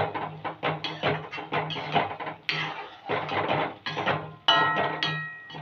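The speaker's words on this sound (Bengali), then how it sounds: "দিয়ে একটু ভালো করে নেড়ে দেব।" Boondi is stirred through sticky sugar syrup in a metal pan, with a steady run of close scraping clinks and knocks as the utensil hits the pan again and again.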